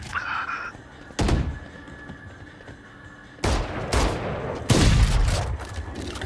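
Shotgun blasts in the video game Valorant, a few loud separate booms with gaps between them and a quieter hum underneath.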